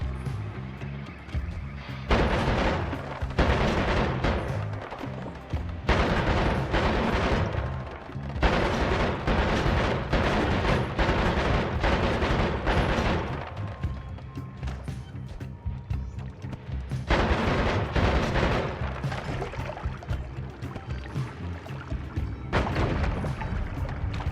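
Repeated booming blasts from mines and shotgun fire in the roguelike game Noita, heavy explosions in clustered bursts separated by quieter stretches, loud and continuous across the span.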